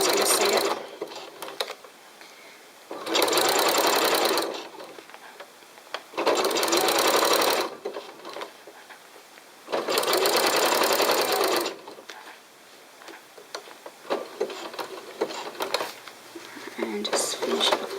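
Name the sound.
sewing machine stitching along a seam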